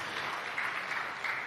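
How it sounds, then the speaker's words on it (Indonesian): A church congregation at a GBI sermon claps steadily, a brief, even patter of many hands heard from a distance, fairly soft and without voices. "Boleh berikan tepuk tangan yang meriah buat beliau."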